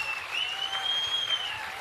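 A live audience at a Kannada mimicry comedy show claps steadily for about two seconds, a dense, even wash of hands with a faint thin whistle-like tone running through it.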